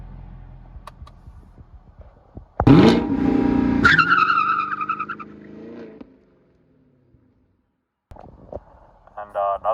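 A Camaro SS 1LE launches hard under launch control, a loud engine roar surging and climbing through the revs for several seconds before fading, then revving again near the end.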